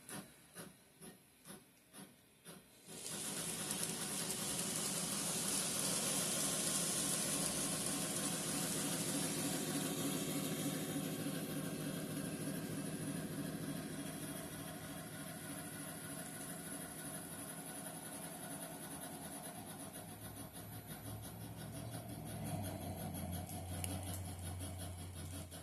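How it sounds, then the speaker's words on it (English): Bachmann N scale 2-8-0 Baldwin Consolidation steam model locomotive running around a layout and through tunnels, giving a steady close whirring, rubbing mechanical drone that rises abruptly and continues evenly throughout. "So I'm going to run it around, speed it up through the tunnels"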